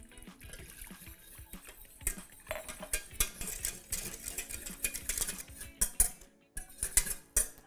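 Sauce being stirred in a cooking pot with soy cream added, as part of a zucchini spaghetti and basil sauce recipe: steady scraping and clinking of a utensil against the pot, with rhythmic swirling strokes close by and no talking.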